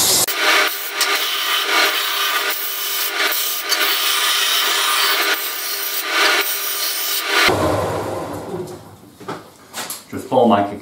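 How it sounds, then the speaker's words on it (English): Sandpaper rubs steadily back and forth along the freshly cut edge of a wooden miter sled, loud and close in a workshop, the strokes continuing for several seconds before tapering into lighter scrapes and handling noises. "Let me just do some sanding."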